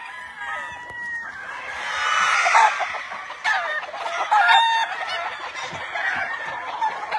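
Several roosters crow and cluck over a noisy farmyard background, calls overlapping loudly throughout, at a Mexican farm.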